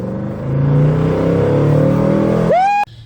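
A tuned Cobra Roush Crown Victoria engine revving hard, a loud, close rising roar that climbs steeply in pitch near the end before cutting off abruptly.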